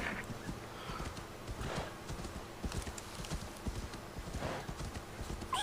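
Horse hooves clip-clopping across snowy slopes in Assassin's Creed Valhalla, a steady run of close, clattering steps with a brief whinny and faint voice underneath.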